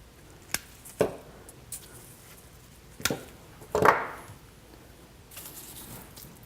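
Hemlock being cut into individual pieces in a garden, a handful of sharp, separate snips and crunchy chops spaced a second or more apart, close and fairly quiet, with faint rustling between.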